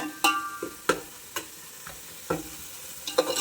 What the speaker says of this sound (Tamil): கொஞ்சம் கிளறி விட்டுட்டே இருங்க